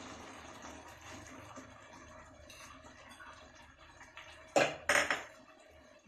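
A spoon stirs coriander into taro curry in a non-stick pan, with soft scraping throughout and a few sharp clinks of utensil against the pan near the end.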